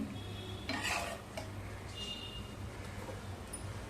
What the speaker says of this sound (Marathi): उरलेल्या फोडणीवरती तुकडे आपण सगळे परतवून घेऊया